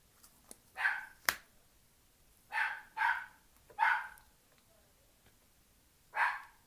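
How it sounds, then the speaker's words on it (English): A pet dog barks indoors on New Year's Eve, giving five or so sharp, mid-pitched barks in loose pairs with gaps between them, fairly close and alone in an otherwise quiet room. "Oh, sorry, my dog is barking."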